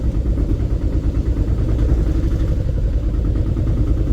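A small engine idles and runs steadily nearby with a low, chugging clatter, continuous throughout with no voices.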